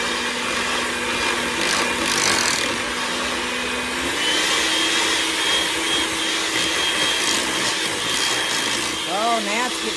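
An electric mixer whirs continuously while beating eggs into cream cheese cake batter for a triple berry cream cheese cake, its motor pitch rising slightly partway through, with a voice talking briefly near the end.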